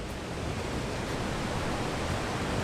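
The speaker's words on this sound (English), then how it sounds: "I've just found a secret little waterfall." A small hidden waterfall in the Otways rushes as a steady, loud, broadband roar of falling water, close by and uninterrupted, with no voices.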